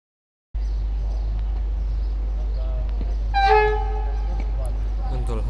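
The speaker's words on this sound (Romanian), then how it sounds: "Dolhasca sosește trenul personal Iași-Putna" A passenger train pulls into a small Romanian station on the Iași–Putna line, a steady low rumble under the whole stretch with a sustained horn blast around the middle and faint voices in the background.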